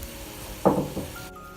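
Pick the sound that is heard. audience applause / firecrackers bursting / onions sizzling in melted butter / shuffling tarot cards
onions sizzling in melted butter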